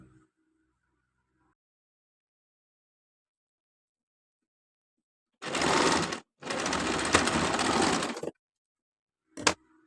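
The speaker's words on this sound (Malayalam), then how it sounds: "ഈ ഒരു എഡ്ജും നമുക്ക് അടിയിലേക്ക് ഫോൾഡ് ചെയ്ത് സ്റ്റിച്ച് ചെയ്തെടുക്കാം" A sewing machine stitches down the folded-under edge of a simple frock, running in two close bursts of steady whirring, followed by a brief final clack.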